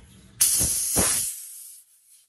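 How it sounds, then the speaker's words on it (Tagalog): Pressurised air escapes from a leaking fitting on a plenum and regulator set under test, starting as a sudden sharp hiss that holds loud for about a second, then thins out and fades. "Sabihin, may singaw yung konti dito."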